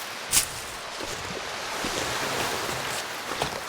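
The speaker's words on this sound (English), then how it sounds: "Very windy" Steady broadband wind blowing in the video game The Long Dark at a forsaken airfield, a continuous gusty rush with a brief louder burst near the start, no talking.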